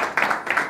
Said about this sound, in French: nous allons applaudir Madame Capitsona